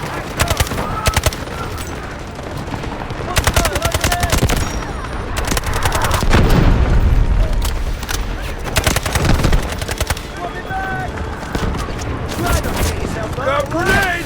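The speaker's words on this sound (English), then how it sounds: "Artillery barrage ready." Dense gunfire and an artillery barrage in the Delta Force shooter game: rapid bursts of automatic fire and sharp shots crackle through heavy booming impacts, loud and continuous, with radio-style game voices occasionally heard underneath.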